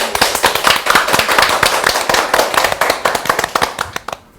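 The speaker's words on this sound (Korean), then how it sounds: "8번째 강의 큰 박수로 시작하겠습니다" Loud, dense applause from a lecture audience opening the eighth session of a Korean Christian lecture series, sharp claps crowding together for about four seconds before cutting off abruptly.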